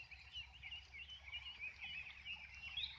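Ducks quacking and chattering in a busy, continuous group chorus, fairly close, with no talking.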